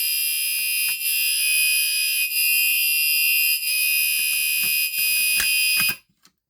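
A Gentex Commander 3 fire alarm sounds during installation: a loud, piercing continuous electronic tone close by, briefly dipping a few times before cutting off abruptly near the end, with faint handling clicks and thumps underneath.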